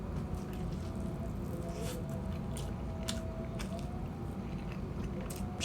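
Someone bites into food and chews close to the mic, soft wet squishing and crunchy clicks over a low steady background, with no talking.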